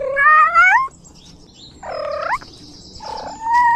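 A cat wearing a strapped-on camera meows and yowls three times in drawn-out, wavering cries close to the microphone, with short quiet gaps between them.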